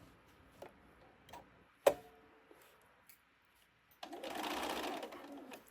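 A sewing machine stitches a fabric knitting bag with a few sparse clicks and ticks, then runs in a short steady whirring burst near the end.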